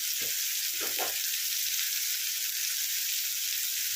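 Food frying in a pan while soybean curry cooks, with a steady broadband sizzle running throughout and a few brief low knocks of stirring near the start.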